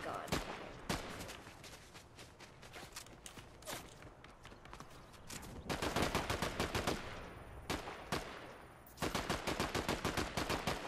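Sniper gunfire in Fortnite: sharp, rapid cracks of shots in dense bursts with pauses between volleys, loud and close, rising in intensity toward the end, with no voices.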